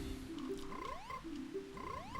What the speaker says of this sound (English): They play the frog noise like that far away.